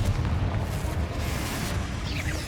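A Bombarda spell cast in Hogwarts Legacy erupts in a dense, booming explosion that rumbles loud and close across the whole moment.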